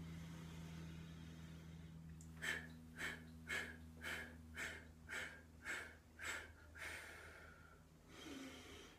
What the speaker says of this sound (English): Staccato breath is a little bit harder.